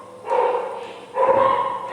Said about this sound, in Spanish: Muchos perros, perdón.